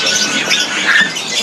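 Harsh, repeated squawks from a caged poksai laughingthrush at a bird market, loud and close over a busy background of other birds chirping.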